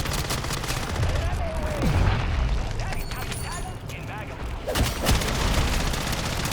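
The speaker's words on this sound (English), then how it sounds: "I just sicked his Mega Bomb on me, bro" A Mega Bomb explodes in Modern Warfare III Zombies, loud booming blasts and rapid gunfire bursts layered with dense game effects, with a player talking over the chaos.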